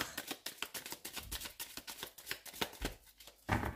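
Oracle cards being shuffled and drawn by hand: quiet, close, irregular riffling and flicking with soft taps and slaps of the deck, no voices.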